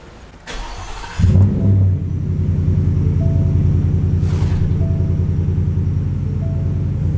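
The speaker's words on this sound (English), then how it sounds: "we're gonna start the truck, run it until it dies," A truck engine, fitted with a 2018+ GT intake adapter kit, cranks, fires up with a brief rev, and then idles loudly and steadily at close range while being run until it dies to clear the fuel system.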